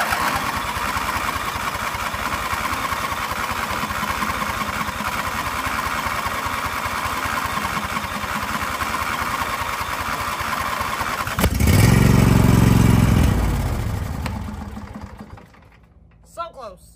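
A motorcycle engine cranks and runs in a steady, loud, close idle-like chug, surging into a heavier roar near the end before cutting out, with voices briefly audible afterward.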